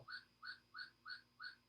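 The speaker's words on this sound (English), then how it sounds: "This is the whistle." A toy whistle noisemaker, struggling in the heat, blown in five short, evenly spaced shrill toots, close and moderately loud with no talk.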